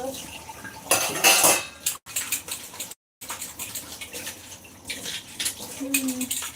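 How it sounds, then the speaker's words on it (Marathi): Dishes are washed by hand at a sink: steel utensils clatter and clink loudly in bursts while running water splashes underneath, with brief gaps and faint background voices. "पटपट तुम्ही भांडी घासता ताई"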